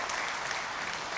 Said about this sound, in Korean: 이제 박수 한번 해주셔야 되는 거 아닙니까?